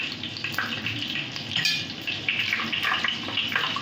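Mace, cinnamon, cardamom and cloves drop into hot oil, giving a light, crackling sizzle close by with small pops and a faint clatter, steady and modest in volume, with no talk.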